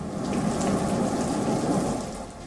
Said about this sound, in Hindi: पहाड़ पर बादल ऐसे बरस रहे हैं कि लोग पनाह मांग रहे हैं।